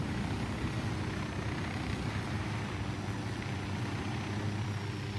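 Helicopter in Ghost Recon Wildlands, a steady droning rotor and engine roar holding at an even loudness throughout, no voices.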